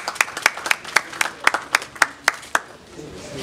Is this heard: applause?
yes